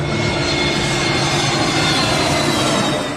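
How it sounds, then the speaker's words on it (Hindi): Airliner roaring down the runway on takeoff at Mumbai airport, a loud, steady broadband engine rush with a faint high whine throughout, close and continuous, no voices. "मुंबई के हवाई अड्डे से विमान रनवे पर दौड़ता हुआ उड़ान भरता है।"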